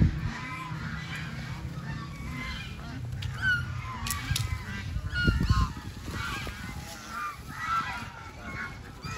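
A flock of ducks on a lake at a mini zoo gathering at feeding time, honking and quacking calls overlapping in a busy, continuous chorus close by, with a brief louder burst midway and faint talk now and then.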